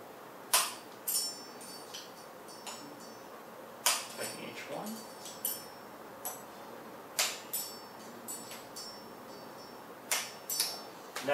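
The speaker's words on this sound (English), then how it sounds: "And then I'm going to use a torque wrench at 6 kilograms per centimeter" A torque wrench tightens bolts in a diagonal pattern on a 2Alpha engine, giving sharp metallic clicks and ticks spaced irregularly over a quiet background, close and crisp.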